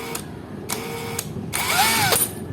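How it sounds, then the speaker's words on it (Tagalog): A Makita impact wrench fitted with a drill bit through an adapter, running in short bursts with a longer, louder whine near the end as it bores and slows down. "Then, drill bit na ginamit ko, makita impact wrench."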